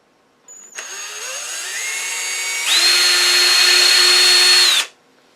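A lathe-mounted drill bores into a globe ornament, a motor whine spinning up and holding steady, then rising to a louder, higher pitch as the bit bites in, before cutting off abruptly after about four seconds.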